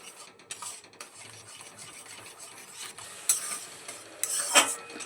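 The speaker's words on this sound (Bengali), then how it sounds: "দুধের সঙ্গে ছানাটা এইভাবে নাড়তে নাড়তে দুধটা ঘন করে নেব।" Stirring chhana into thickening milk in a pan over low to medium flame, a soft continuous scraping of spoon against metal with a few brighter clinks near the end, fairly quiet and close, no voices.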